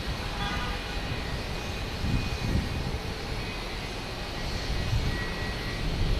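A JetBlue Airbus A220 jet takes off at Boston Logan Airport, a steady broadband engine roar that swells slightly midway and again near the end, heard at a moderate distance with no talk.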